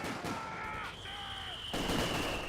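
A mortar half-track fires during a Company of Heroes 2 battle, giving a muffled distant thump amid constant battlefield noise and thin whistling tones, with a louder burst near the end.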